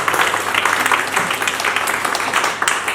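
An audience at a poetry event in Agra claps to thank Himanshu Bajpai, giving a steady, full round of applause throughout.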